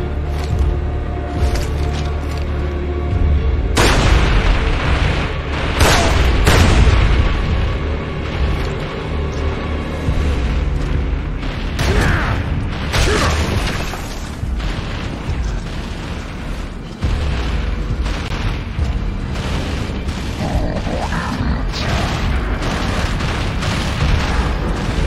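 Heavy gunfire and booming explosions from weapons in the video game Gears of War: Judgment, loud and continuous with repeated bursts and blasts layered over a dense low rumble throughout.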